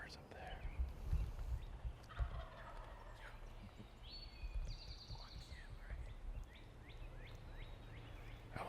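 Wild turkeys gobble repeatedly in the distance from their roost in Pennsylvania, their rattling calls rising and falling over a quiet outdoor background with faint rustling.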